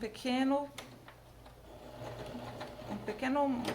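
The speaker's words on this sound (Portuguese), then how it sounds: "vou começar a costurar" Sewing machine stitching a vertical seam along the side of a piece held in place with wire, a steady mechanical whir under a voice speaking at the start and end.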